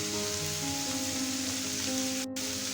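Capsicum, carrot, tomato and green chilli sizzling in hot oil, a steady close crackling hiss with a faint hum underneath and no talk.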